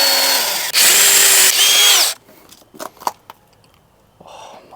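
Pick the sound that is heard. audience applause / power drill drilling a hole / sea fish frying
power drill drilling a hole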